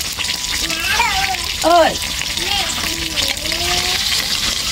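Tofu frying in a pan gives a steady soft sizzle beneath a voice calling out and speaking, with a voice briefly heard.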